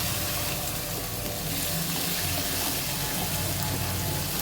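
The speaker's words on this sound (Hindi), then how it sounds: "हल्का से डालेंगे पानी, मसाला जले ना, इसको फिर से भून लेंगे।" Water poured into frying masala for an aloo methi dish, giving a loud, steady broadband hiss and sizzle with no voices.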